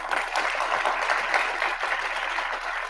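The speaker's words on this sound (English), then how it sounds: "Get a round of applause." Audience applause at a cybersecurity conference talk, steady and moderately loud crowd clapping from a conference hall.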